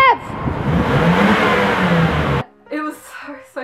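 A car engine revs hard and loud for over two seconds in a sustained roar, then cuts off abruptly, followed by brief quieter sounds.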